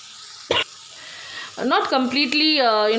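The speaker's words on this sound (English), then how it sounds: "Let it fry until the tomato kind of not completely" Tomato masala frying in a pan gives a soft, steady sizzle beneath a person speaking, with a short sharp clatter near the start.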